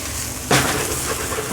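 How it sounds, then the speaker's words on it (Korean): Sliced eggplant, onion and green onion hit a hot pan at once, a sudden loud sizzle that settles into a steady close frying hiss with no talk. "한 번에 그 아까 썰어둔 가지, 그다음에 양파, 대파를 같이 볶아주시면 됩니다"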